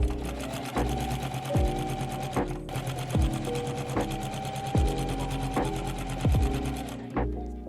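Sewing machine stitching a hem on upcycled denim jeans, steady rapid needle chatter running throughout, interrupted by several brief pauses and restarts, close and fairly loud with no talking.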